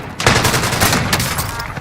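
Rapid gunfire rattles in the video game Warzone, a loud close burst of shots mixed with sharp impact hits.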